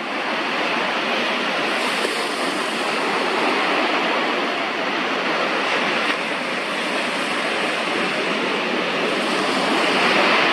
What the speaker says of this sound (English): the wind moves across the water and creates waves